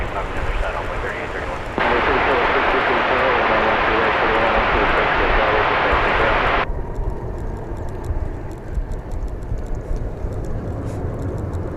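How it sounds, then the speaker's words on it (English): A Boeing 737-800 arriving at DFW Airport from Austin, Texas, gives a loud, steady broadband engine roar that sweeps in for about five seconds and then cuts to a quieter rumble, with outdoor background noise. "And we got this plane coming in from Austin, Texas, flight 415, a 737-800."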